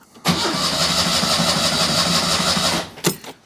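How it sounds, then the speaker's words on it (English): A classic car engine, run on choke, cranks and catches almost at once, then holds a steady mid-pitched idle close by for a couple of seconds before cutting off, followed by a brief final bump. "So I think now we can actually go as far as to start the engine."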